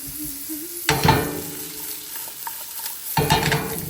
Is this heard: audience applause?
no